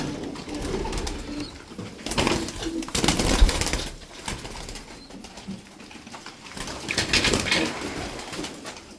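Ankara white pigeons coo and flutter in a loft, with soft repeated coos and bursts of wing flapping rising and falling at close range, no speech.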